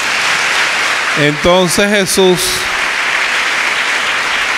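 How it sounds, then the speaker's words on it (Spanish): Church congregation applauding together, a steady broadband wash of clapping that runs throughout, with a brief spoken word from a preacher cutting through in the middle. "Denle un aplauso al amor de Dios."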